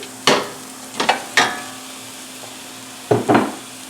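Ground beef, about 1.5 pounds, going into a pan to brown, giving a few short close clatters and stirring scrapes over a faint steady sizzle, with no talking.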